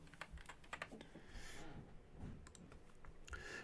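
Rapid, uneven clicking of keys on a computer keyboard, fairly close, with a few heavier taps and a quiet room hum underneath.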